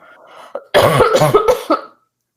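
A voice imitates a harsh coughing fit after inhaling cigarette smoke, a faint breath followed by a loud burst of several rough, rasping coughs in quick succession, close to the microphone.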